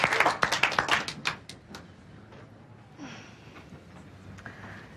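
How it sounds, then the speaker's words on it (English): An exercise class claps together: a burst of sharp, fairly loud claps for about a second and a half, quickly thinning out and fading into quiet room ambience. "Give yourselves a clap."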